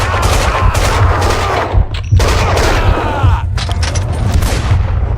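Dense, loud gunfire fills the Max Payne 2 video game, with rapid overlapping shots and booms that continue almost without pause for about five seconds.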